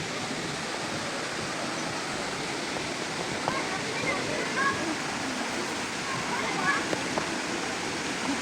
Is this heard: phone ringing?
no